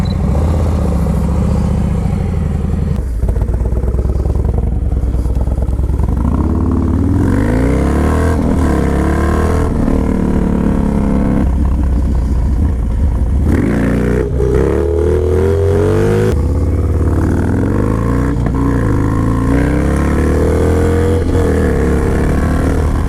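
A 2019 Harley-Davidson Road King Special with the 114 engine rumbles steadily on a test ride near South Mountain, its loud low exhaust note rising and falling through several rev surges and gear changes, with wind noise throughout.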